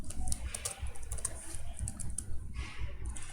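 Computer keyboard typing during a C++ programming session: quick irregular clicks of keystrokes, close and steady, with no one speaking.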